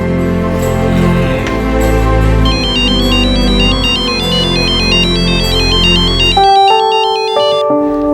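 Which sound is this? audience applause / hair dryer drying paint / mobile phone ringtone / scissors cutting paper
mobile phone ringtone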